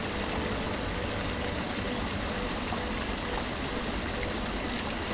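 A Scottish river rushes steadily in a village setting, a dense, continuous broadband roar of flowing water with no pauses, close and fairly strong.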